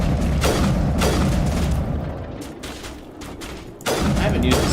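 Heavy sniper rifle shots in the Mass Effect Legendary video game: a few loud, booming blasts spaced apart, with rumbling combat noise between them.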